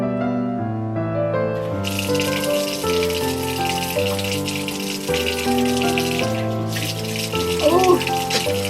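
A tap runs in a sink for hand washing with Aesop hand soap, its steady rushing hiss starting after a moment, briefly cutting out and returning, mostly masked by a louder melodic music track playing throughout.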